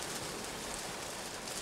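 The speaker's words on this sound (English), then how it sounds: "You can hear the rain pouring down." Steady rain pours down outdoors, a dense, even hiss of drops on surfaces with no let-up, moderately loud and continuous with no voices.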